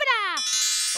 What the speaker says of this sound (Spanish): ¡Oh! Ese es mi teléfono.